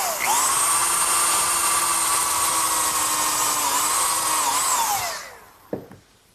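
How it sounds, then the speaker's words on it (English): A combination drill countersink bores pilot screw holes in wood for a child's sandbox frame, letting out one steady, loud whine for about five seconds before winding down, followed by a couple of sharp clicks. "I'm going to pre-drill for the screws using a combination drill countersink."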